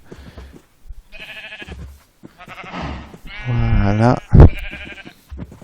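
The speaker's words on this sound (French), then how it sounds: "on a un joli petit attroupement, on a 4 moutons et une vache" Sheep in Minecraft give several clear, wavering bleats close up, with a brief spoken word near the end and small game sounds between.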